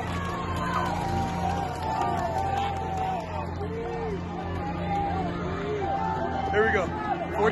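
Crowd noise at a high school football game in Boonville, a dense babble of voices with scattered whoops and yells rising near the end, with talk running over it.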